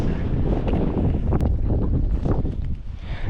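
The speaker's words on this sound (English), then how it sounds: "This bit windy actually gets quite bad." Strong gusting wind buffets the microphone on an exposed volcanic mountain track, a loud continuous low roar with rushing surges and no speech.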